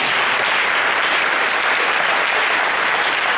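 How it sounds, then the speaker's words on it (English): A school theater audience applauds loudly and steadily, a dense wash of many hands clapping for the whole stretch with no voices over it. "Miss Newman, if we can give her a big round of applause."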